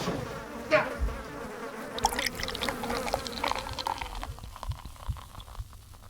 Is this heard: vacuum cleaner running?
no